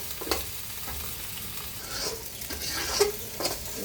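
Pre-fried meat is sautéed with spices in a pan, with a continuous close sizzle and scraping stirring strokes every second or so, moderately loud, with no talking.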